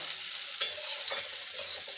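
Bitter gourd slices fry on a clay stove, giving a soft, steady hiss with faint scraping stirs now and then, close by and without any voices.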